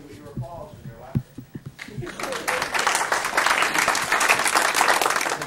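Audience applause in an old building, starting with a few scattered claps after a speaker's closing thanks and swelling into sustained, dense clapping from a crowd.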